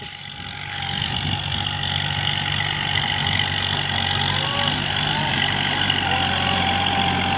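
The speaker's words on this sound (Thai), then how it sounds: "วันนี้เรามาดูรถไถ L4018 ไถสวนปลูกมันกันครับ" A Kubota L4018 tractor engine runs steadily at idle while ploughing a field for cassava planting, a constant low rumble with mechanical drone lasting throughout, close by and loud.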